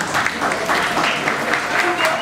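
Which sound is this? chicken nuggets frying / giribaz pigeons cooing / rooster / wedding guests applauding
wedding guests applauding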